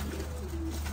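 Pigeons cooing, a soft low drawn-out coo rising from a steady background hum, brief and alone.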